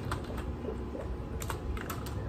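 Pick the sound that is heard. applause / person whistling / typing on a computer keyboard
typing on a computer keyboard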